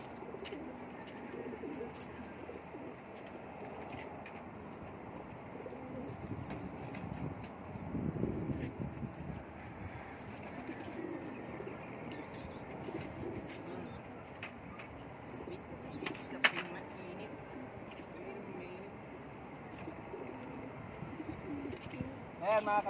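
Racing pigeons coo softly close by in a loft, low murmuring calls repeating under light handling noises and occasional talk.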